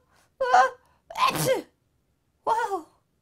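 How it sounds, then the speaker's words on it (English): Three separate sneezes in a quiet room, each a loud abrupt burst with a short gap between, the middle one the strongest. "I think I'm gonna sneeze"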